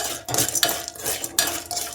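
Popcorn kernels stirred nonstop in a pan over a gas flame: a spoon scrapes and clatters against the metal in quick repeated strokes, close and fairly loud, with no voice.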